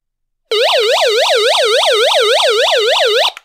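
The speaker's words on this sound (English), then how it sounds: "A little siren there and a little flashing light." SOS alarm from an Aivica AM/FM NOAA weather alert emergency radio, a loud rapid warbling siren that starts abruptly, cycles steadily for about three seconds, then cuts off.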